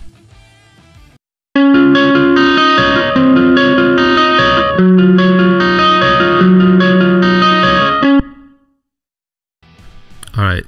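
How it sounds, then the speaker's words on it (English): A PRS Custom 24 electric guitar plays ringing distorted chords with chorus and reverb in a recording studio, loud and sustained for several seconds. Brief speech comes before the playing and again after it stops. "And the final result for my PRS Custom 24 sounds like this."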